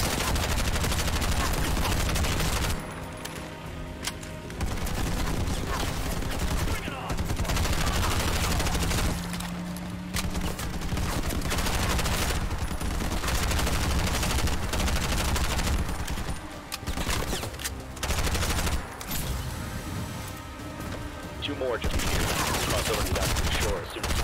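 Dense gunfire from the video game Bright Memory Infinite, loud sustained bursts and rapid volleys filling nearly the whole stretch with only short lulls, a voice now and then under the shooting.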